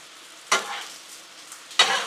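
Sausage and bacon sizzle on a Blackstone griddle, a soft steady fry punctuated by two sharp scraping stirs of a spatula about a second apart.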